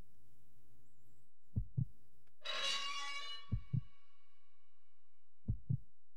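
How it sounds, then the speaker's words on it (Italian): A tense heartbeat effect in Resident Evil Code Veronica X plays three slow, deep double thumps spaced a couple of seconds apart, with a brief hissing burst between the first two beats. "il battito del cuore, bellissimo"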